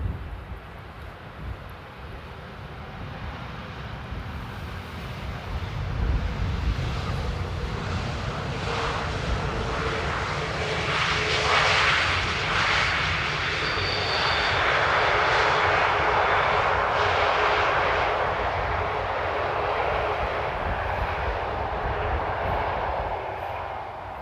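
A Transavia airliner arrives at Amsterdam airport in crosswind conditions, its jet engine roar swelling steadily from a distant rumble to a loud, broad rushing drone that lingers, with some wind noise on the microphone.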